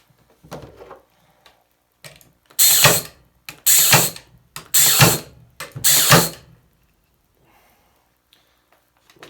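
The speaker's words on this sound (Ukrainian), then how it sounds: "зараз спробуємо забити фанеру до дошки" A Parkside cordless nailer drives 25 mm staples through plywood into a board, firing four loud, sharp mechanical bangs about a second apart. Quieter clicks and handling come before and after.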